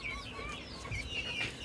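Desi hens cluck and chirp steadily at close range while pecking at grass brought from a lemon orchard, with a soft constant background hum.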